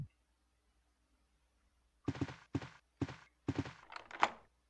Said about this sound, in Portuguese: Destrancando a porta